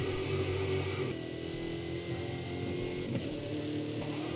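A car engine in a drifting video game hums loud and steady, holding a revving tone with slight pitch shifts as the car slides.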